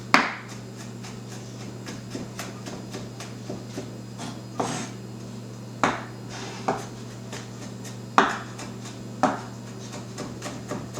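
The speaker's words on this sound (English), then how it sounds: "Just kind of keep chopping until you get it kind of fine." A knife chops food on a cutting board in a home kitchen, sounding as sharp, separate knocks every second or so, close and fairly quiet over a low background hum.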